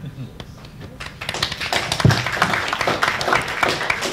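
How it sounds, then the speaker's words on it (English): A live audience claps through a talk event on renewable governance, a dense, steady patter of many hands that swells partway in and keeps going, with a voice speaking over it. "We're clapping for you, by the way, not me."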